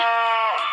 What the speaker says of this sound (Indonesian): itu sapi